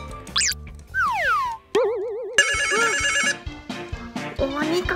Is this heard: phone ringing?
yes